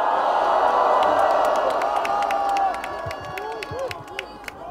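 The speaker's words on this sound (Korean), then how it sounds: "뜨거운 박수로 맞이해 주십시오" A large crowd at a political rally claps, cheers and whoops loudly, then settles into scattered shouts and calls.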